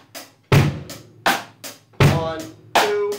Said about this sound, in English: we're going to put 8 notes on the hi-hat